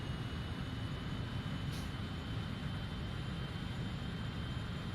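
Steady broadband roar of Avro RJ jet airliner engines in Microsoft Flight Simulator 2024, heard on a long final approach to runway 30 at Bromma, continuous and even throughout with no talking.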